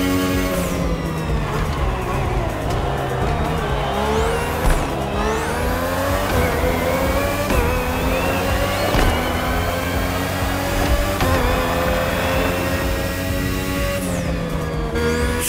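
A race car in The Crew Motorfest motorsport event drives hard through a hairpin after a tunnel, engine whining steadily up and down through gear changes with occasional tire squeal, loud and continuous with no talking.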